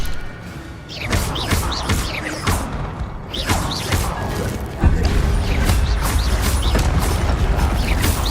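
A Levioso levitation spell cast in a video game, heard as a busy run of mechanical clanks, creaks, ratcheting clicks and thuds, loud and close, with a heavier impact midway and steady layered effects throughout.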